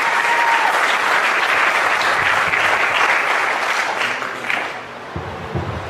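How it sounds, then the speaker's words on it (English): Audience at a mayoral debate giving the candidates a round of applause, sustained dense clapping from a crowded room that gradually thins and fades out near the end. "I'd like everybody to give them a round of applause for standing up and trying to be the next mayor"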